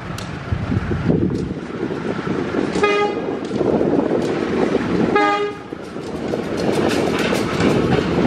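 Bandung Raya local train hauled by a long-hood locomotive passing through Cimekar station, sounding two loud horn blasts over a steady rumble of wheels and engine.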